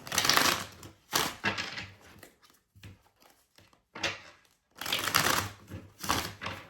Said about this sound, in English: Y'all saw me shuffle these cards.